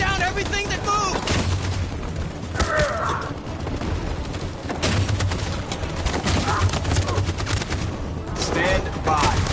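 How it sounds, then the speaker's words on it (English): Sustained machine gun fire rattles through a chaotic video game battle, with dense bursts and booming explosions going on nonstop while voices shout over the din. "That machine gun has taken down everything that moves!"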